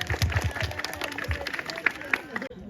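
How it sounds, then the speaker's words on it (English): An audience applauds at a community ceremony, with a brief patter of scattered clapping and light crowd noise, faint and short, under a speaking voice. "big round of applause for chị Trang"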